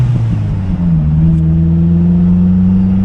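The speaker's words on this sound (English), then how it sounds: "We really didn't need to rev it that much for that one too, but we did." A 2004 Jeep TJ with a 2.4L engine and five-speed revving up, a loud close droning hum whose pitch climbs and then holds steady.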